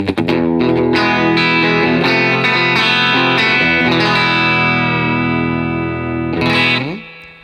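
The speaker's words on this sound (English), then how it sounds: "crank that spring reverb" Electric guitar played through a Universal Audio UAFX amp simulator pedal with the spring reverb cranked, loud distorted sustained chords ringing out with a splashy reverb tail, then a final strum that fades away.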